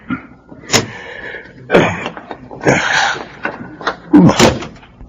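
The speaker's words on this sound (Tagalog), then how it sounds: "Buksan mo na itong pinto nitong kotse." Car door opening in a Filipino radio drama, with a few sharp clicks and thumps of the handle and door among other rustling movements, sounding close and fairly loud.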